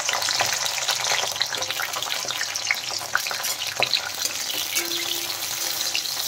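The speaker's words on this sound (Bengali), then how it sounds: "আমি সবজিগুলো একটু ভেজে নেব। প্রথমে ভেন্ডিটা ভেজে নিচ্ছি।" Okra frying in hot oil in a wok makes a dense, steady crackling sizzle, close and even for the whole stretch, with no voices.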